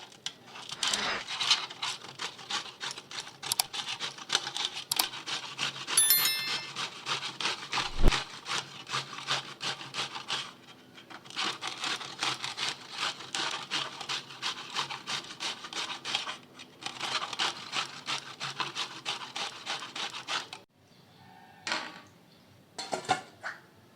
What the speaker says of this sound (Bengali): আমগুলো ধুয়ে ভালো করে ঘষে নিচ্ছি